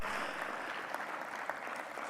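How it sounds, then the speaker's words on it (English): An audience at a hybrid auto parts industry event applauds, a soft, even wash of many hands clapping heard from a distance, faint and continuous with no voices on top. "So I want to make a big applause for them, because they make a big effort to do that."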